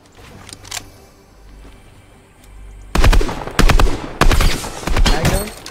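Bursts of rapid automatic gunfire from Fortnite gameplay, loud close volleys in several clusters after a quieter opening with a few faint shots.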